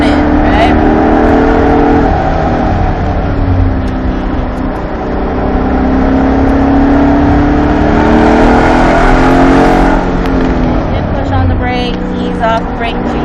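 A Ford race car on the Charlotte Roval circuit, heard from inside during a racing school instructor ride-along, roars loud and close as the engine climbs and surges, with a voice talking over it.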